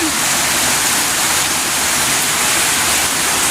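Steady, dense rush of heavy rain pouring down with strong wind, a continuous loud hiss with no breaks and no voices.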